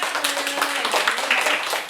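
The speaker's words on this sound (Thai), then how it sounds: "เพื่อนเพื่อนๆปรบมือให้คุณเค้ก่อคุณเค้กเก่งมา" Classmates clap their hands in a school classroom, a brief patter of many hands at moderate volume.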